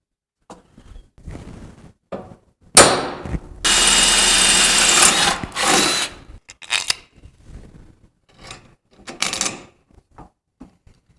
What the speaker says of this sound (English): Let's drill a couple holes right here.